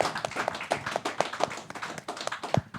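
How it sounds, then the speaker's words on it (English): Audience clapping at an online environmental activism talk on the circular economy, a steady run of sharp, close hand claps with a brief louder burst near the end and no talk over it. "Clap for that."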